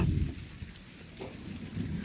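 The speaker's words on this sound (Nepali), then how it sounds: "ल गाइजहरु असिना परिसकेको छ देख्न सक्नुहुन्छ" Hail comes down with rain, a soft, dense patter that swells and eases, with low rumbling underneath and no one speaking.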